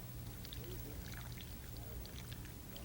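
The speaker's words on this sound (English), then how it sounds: "take your green beans that have been drained, that are still warm, and pour in your marinade" Marinade poured onto drained, still-warm green beans in a kitchen, a soft continuous liquid trickle lasting a few seconds, faint and close.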